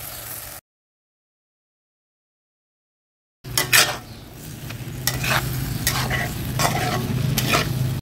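Local chicken meat goes into home-ground cumin and coriander spices frying over an outdoor wood fire, followed by sizzling and repeated stirring scrapes after a long silent gap.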